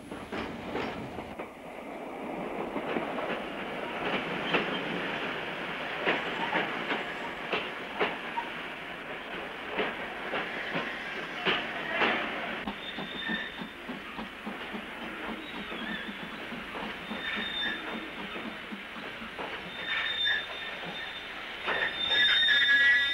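A train rolls steadily along a branch line of the Somerset and Dorset railway with rhythmic wheel clatter, rumbling carriages and occasional high wheel squeals, heard from on board.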